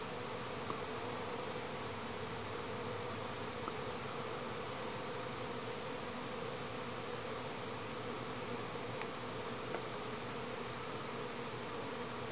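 A dense, steady buzz of many honey bees circling close to their hive on orientation flights, a continuous droning hum with no pauses or voices.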